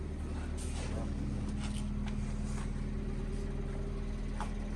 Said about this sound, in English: Luke's car runs now after 3 months.